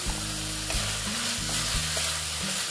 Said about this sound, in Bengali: দিয়ে এটার সঙ্গে একটু ভেজে নিচ্ছি, কষিয়ে নিচ্ছি আর কি সঙ্গে।